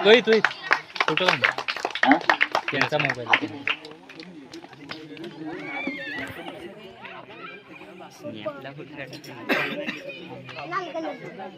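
A crowd cheers and claps loudly at a trophy presentation after a final match. A dense burst of applause and shouting comes first, then settles into scattered chatter with a brief swell of cheering later.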